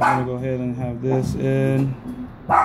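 Pet dogs bark and yip intermittently in a room during an RDA vape atomizer build, a couple of sharp bursts near the start and end, mixed under continuous close speech.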